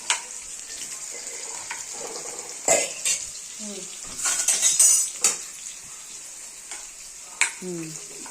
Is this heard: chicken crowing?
no